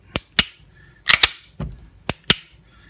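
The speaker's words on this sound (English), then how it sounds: "You should get a reset click" Springfield XDS pistol fitted with a performance spring kit, racked and dry-fired to test the trigger reset: sharp, close metallic clicks in pairs and small clusters, separated by brief quiet.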